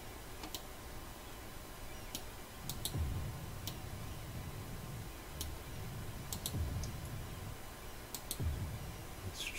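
Scattered light clicks of computer keys, quiet and irregular, tapped in short clusters over a low background hum with no talking.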